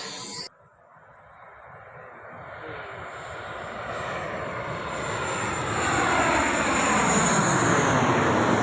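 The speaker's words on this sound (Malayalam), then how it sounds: "ഞങ്ങൾ 4 ഫ്ലൈറ്റ് ഇറങ്ങുന്ന കാഴ്ചയാണ് കേട്ടോ കണ്ടത്" An airplane comes in to land at Calicut airport, its engine roar swelling steadily from a low distant rumble into a loud, broad rushing drone that keeps building for several seconds.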